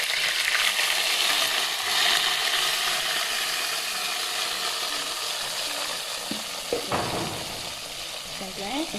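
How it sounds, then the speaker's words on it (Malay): Ground spice paste drops into hot cooking oil in a pot, giving a loud, dense, steady sizzle and crackle with a few sharp spatters and scraping sounds near the end. "Masukkan bahan kisar tadi ke dalam periuk."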